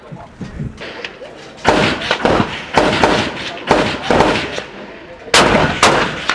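Rifle shots from a Merkel .270 Win Mag, several loud sharp cracks spaced a second or so apart with echoing tails, heard outdoors without talk.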